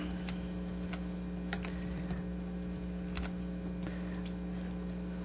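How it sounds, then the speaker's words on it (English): Keys clatter on a computer keyboard in irregular bursts of light clicks over a steady mains hum, with short pauses between runs of typing during a data-entry workshop. "my high school English teacher is appalled at my typing skills"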